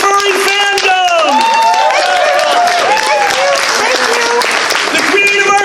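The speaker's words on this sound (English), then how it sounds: "I want a huge round of applause for Fur, the creator of the furry fandom." A convention crowd gives a big round of applause and cheers at a furry fandom show, dense steady clapping mixed with whoops and a host's voice calling out over the noise throughout.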